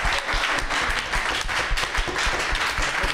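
Crowd applause at a stage show during the Apple Expo 2006, dense close clapping with distinct individual hand strikes, loud and continuous throughout.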